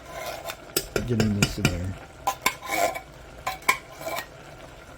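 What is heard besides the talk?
canned cream of chicken soup being added to a pot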